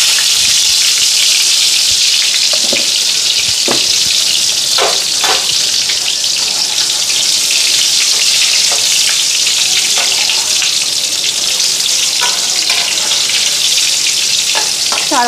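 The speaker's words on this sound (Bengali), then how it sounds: "দুইটা দুইটা করে ভাজতে লাগবো।" Pieces of food frying two at a time in a pan of oil: a loud, continuous hiss and sizzle, with occasional sharper crackles and splashing bursts standing out against the steady roar.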